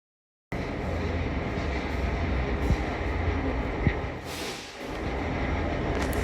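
A coal train in Sumatra rolls past in a continuous loud rumble, with a couple of sharp metallic clicks and a brief hiss near the middle, heard up close and alone.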